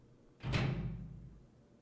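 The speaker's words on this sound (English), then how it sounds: "go through door." A door in the Silent Hill 3 game opens with a single heavy, muffled thud and a low rumbling swing that fades over about a second, heard alone.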